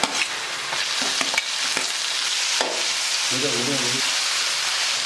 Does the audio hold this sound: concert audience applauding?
no